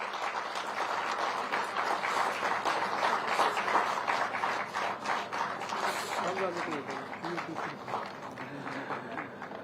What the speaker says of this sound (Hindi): तालियां जोरदार आप सबकी तरफ से हो जाएं।